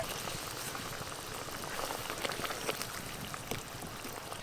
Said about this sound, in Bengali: ঝোল খুব ভালো করে ফুটে গেছে